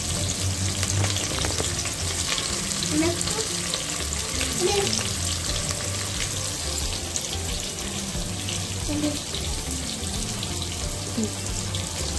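Onions sauté loudly in a pan for mutton biryani, giving a dense, steady frying hiss with faint stirring scrapes throughout and no voices.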